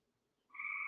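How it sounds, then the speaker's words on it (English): A frog outside after heavy rain starts a loud, steady croaking call partway through, following near silence. "I hope you can hear us over the frogs outside because they're quite loud"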